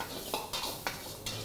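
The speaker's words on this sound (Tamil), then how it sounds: "நல்லா விரட்டி எடுத்துட்டு" A spoon stirs mutton and chopped tomatoes in a pan, giving several quick scraping strokes in an uneven rhythm over a faint sizzle, heard close with no talking.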